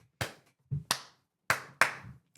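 Several sharp, separate hand claps sound in an uneven rhythm, close and crisp, with silence between each clap, set in a church scene.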